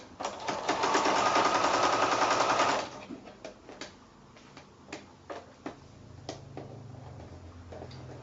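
A sewing machine stitches a quilt in a quilt-as-you-go project, whirring in a fast steady run for a few seconds, then giving way to slower scattered ticks and clicks nearby.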